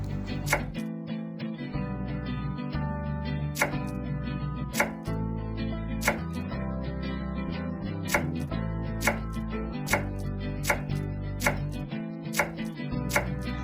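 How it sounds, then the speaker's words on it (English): A knife chops through a lemon on a cutting board in a steady run of sharp, close knocks, with dense rhythmic strikes and brief pauses, and no voices. "cut the lemon"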